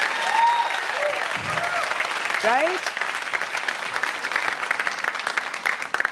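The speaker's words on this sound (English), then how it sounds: "let's have like a round of applause just for ourselves" Sustained applause from an audience fills the clip, steady clapping throughout with a brief voice speaking over it.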